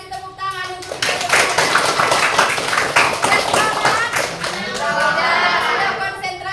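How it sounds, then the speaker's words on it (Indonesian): A class of children claps hands in a fast, loud burst of patter, with children's voices mixed in before and during the clapping. "Oke, kasih tepuk tangan untuk kita."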